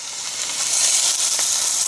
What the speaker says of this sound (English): you want to get that nice sear going